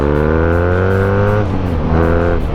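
A BMW Urban G/S motorcycle with a 1170 cc, 110 hp boxer twin revs up loud and close, pitch climbing steadily through a gear, dropping briefly at a shift, then rising again.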